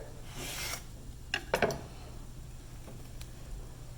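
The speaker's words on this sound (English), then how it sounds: "I'm going to cut right down the center." A sharpened kitchen knife slices down through the center of a whole apple, giving a soft rasping crunch followed by a couple of brief, sharper cutting sounds close by in a quiet room.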